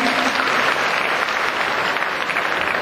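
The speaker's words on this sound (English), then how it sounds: "Please give a huge round of applause for the reciters, the music team and the music piece this morning." Sustained applause from an audience at a morning school assembly, honoring the reciters and the music team; dense, even clapping fills the whole stretch with no pause.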